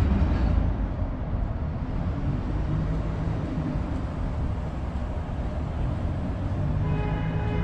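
A steady, loud rumble of a Sheffield Supertram rolling past nearby, outside Sheffield Cathedral, with continuous wheel and motor noise and no voices.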